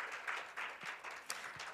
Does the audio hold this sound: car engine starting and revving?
no